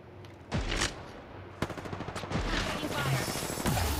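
Rapid bursts of automatic gunfire in a battle royale shooter video game, several sharp volleys crackling close and loud over a few seconds, with a player's voice talking briefly.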